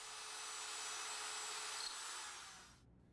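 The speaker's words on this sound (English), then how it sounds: "we make complementary holes in our mirror frame using a hand drill with a 3/8 inch bit" Hand drill with a 3/8 inch bit boring dowel holes in a cherry wood mirror frame using a doweling jig: a steady close whirring grind that holds for a few seconds, then cuts off abruptly.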